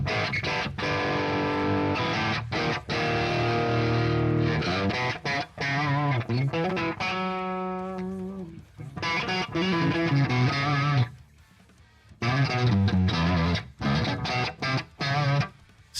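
An electric guitar with a twangy, overdriven tone plays loud riffs and sustained bent notes, with short pauses between phrases.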